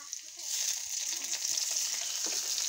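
Tomatoes drop into hot oil with a soft knock, then a steady bright frying sizzle holds close and loud, with faint stirring scrapes underneath and no talking.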